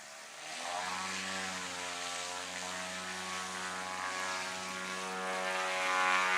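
STOL propeller airplane in the backcountry class of a national STOL competition taking off, its engine a steady, loud droning buzz with strong harmonics that holds and swells slightly as the aircraft climbs away.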